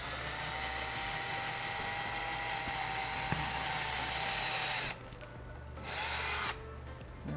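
A power drill runs at low speed, boring through the metal chamber of a Hotshot 1200 welder during an argon kit upgrade; steady loud whine, stopping briefly near the end before resuming.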